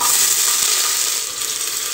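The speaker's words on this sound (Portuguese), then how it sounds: "Vou deixar a cebola dourar" Chopped onion sizzles loudly in hot oil inside a pressure cooker, a dense, steady crackling hiss that fades slightly near the end.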